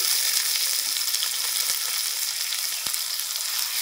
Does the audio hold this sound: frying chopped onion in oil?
yes